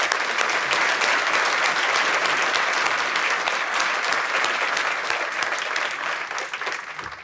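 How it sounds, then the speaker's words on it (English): A room full of people at a civic breakfast forum applauds two speakers, sustained dense clapping that holds steady before tapering at the end. "let's join me please in a round of applause for our two speakers today"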